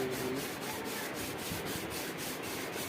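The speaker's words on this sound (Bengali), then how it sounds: "তো এক এক করে সবকে মানে ঘষছি আর কি।" Wooden Jagannath deity figures being rubbed or sanded by hand, a steady close scratchy friction with a regular back-and-forth pulse, no voices over it.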